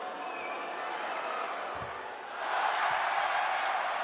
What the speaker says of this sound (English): Crowd just managing to get involved here as Pledger begins to go into a shooting motion.